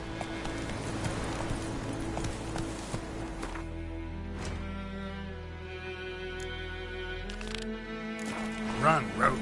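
Roach the horse gallops in The Witcher 3, a rhythmic run of hoofbeats under a droning game soundscape, with a voice speaking over it and the pace fading into calmer ambience.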